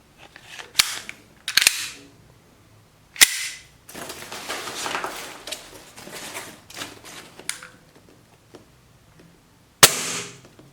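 A used gas-powered BB pistol fires several sharp, loud cracks spaced irregularly, with quieter mechanical handling and rustling in between.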